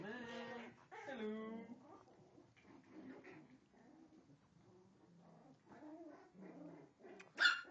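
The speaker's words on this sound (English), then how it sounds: "He's growling at him." A puppy being socialised with another dog whines, yips and barks in short bursts, ending in a sharp loud bark, while the low growling is hard to pick out beneath the higher cries.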